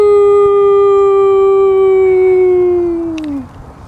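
A person reading a picture book aloud imitates a dog's howl, giving one long, steady, loud tone that slides downward and fades at the end.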